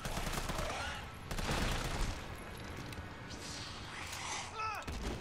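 Gunfire in Resident Evil 3 comes as loud, broad blasts, one big burst early and more shots scattered later, mixed with a vocal-sounding cry or groan near the end.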